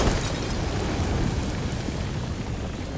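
A dense, sustained roaring rumble of an explosion in the video game A Plague Tale: Requiem, continuous and loud throughout with no talking.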